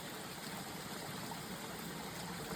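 Water pours into a drinking bottle in a steady, continuous trickling stream, moderately quiet and close, with no pauses.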